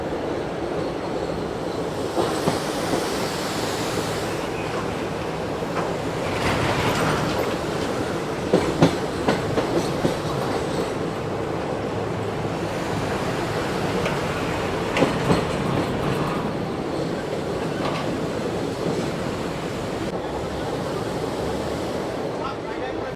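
A train rolls across the Farakka Barrage with buses and lorries moving alongside, giving a steady, loud rumble and clatter of rail wagons throughout, with a few sharper knocks standing out now and then.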